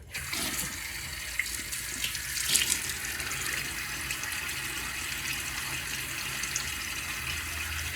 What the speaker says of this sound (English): So let me get my face wet real quickly.